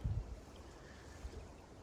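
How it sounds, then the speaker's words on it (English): Gusty wind buffets the open air while canoeing on the Buffalo River, a low rumbling noise with a couple of stronger thumps, steady and fairly faint. "but it is very windy, and we are battling the wind."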